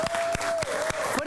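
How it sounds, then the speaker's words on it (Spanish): A television studio audience applauds after a song, a loud, dense crowd clapping with a few sharper accents and a sustained tone lingering underneath. "Vamos, aplausos."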